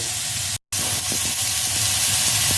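Carrots searing over fairly high heat in a hot pan give a loud, dense, continuous hiss that drops out for a moment before resuming.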